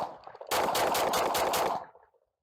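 A DR920 pistol fires a rapid string of about seven loud, close shots in under two seconds, followed by a short fading echo.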